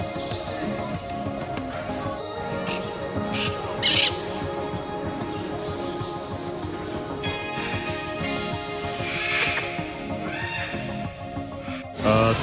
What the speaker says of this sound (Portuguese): Viveiro de araras bem no meio do evento,